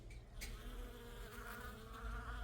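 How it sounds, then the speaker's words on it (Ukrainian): A steady, dense buzzing of many bees close by on hellebore flowers, humming continuously with no voices. "Так бджоли гудуть."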